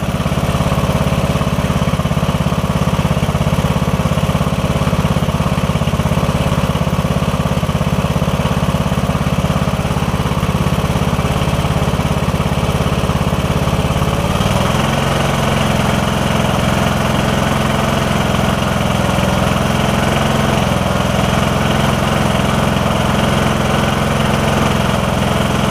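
A riding lawn mower engine runs steadily and loudly up close, a continuous mid-pitched drone whose tone shifts slightly partway through, after a repair to a camshaft compression release.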